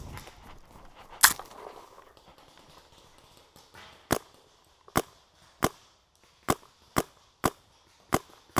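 Paintball marker fires at a paintball field, one sharp crack early, then a steady series of about seven loud, evenly spaced shots, close by.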